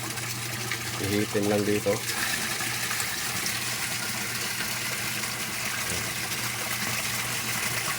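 A homemade water-pump setup used in place of an oxygenator churns and gushes water continuously in a steady, close wash of sound while someone talks briefly over it.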